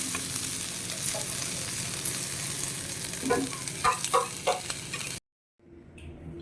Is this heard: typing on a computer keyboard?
no